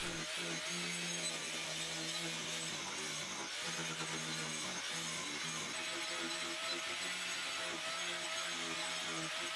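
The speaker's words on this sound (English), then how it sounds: "I begin power carving, here using a cut saw disc on my angle grinder" An angle grinder fitted with a saw disc power-carves a wooden seat, giving a continuous abrasive whirring grind with shifting pitch as the disc bites into the wood, close and uninterrupted.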